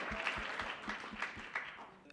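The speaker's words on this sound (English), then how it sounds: "Round of applause for Senator Krueger." An event audience claps for Senator Liz Krueger's birthday at a New York gathering, a brief burst of scattered, rhythmic clapping at moderate volume with some voices mixed in.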